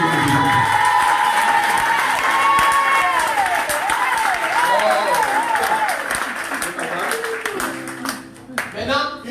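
A church congregation in Port-Gentil breaks into loud, sustained applause and cheering, with tonal singing or music running over the crowd noise before it thins out near the end.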